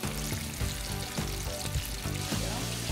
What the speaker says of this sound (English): We've got a mixture of flour and seasoning here. And we're frying it in peanut oil.